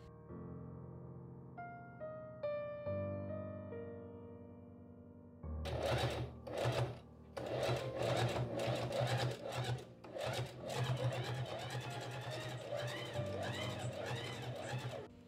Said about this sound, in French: Ensuite, je vais coudre sur tout le long au même niveau que la première couture.